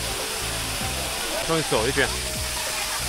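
A waterfall at Huangling in Wuyuan gives a steady broadband roar of falling water, with a person speaking briefly over it.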